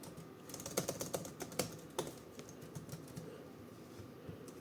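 Laptop keyboard keys tapped in a quick, uneven burst of clicks while entering a login password on an old laptop being set up with FreeBSD, close and fairly quiet, with no talking.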